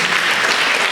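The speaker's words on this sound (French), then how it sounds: "applaudissez Tony, le grand Tony" A crowd at a football club's welcome event in Yeumbeul applauds a player, producing a dense, loud, continuous wash of clapping.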